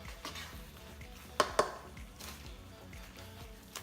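Fried chicken pieces, made from Burger King chicken nuggets, being tossed in thick orange sauce in a pan without a wok, with soft wet scraping and shuffling plus two sharp clanks of utensil on metal midway.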